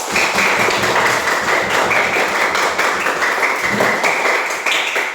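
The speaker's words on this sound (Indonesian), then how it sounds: "kita tepuk tangan untuk kelompok 2." Classroom clapping as students applaud a presenting group, a dense, steady patter of many hands filling the whole stretch at close range.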